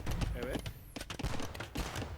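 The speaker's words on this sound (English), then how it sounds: "11 hand cannons" Hand cannons fire in an Age of Empires 2 Xbox tournament match, a rapid, crackling volley of overlapping shots mixed with battle noise, under a caster's excited commentary.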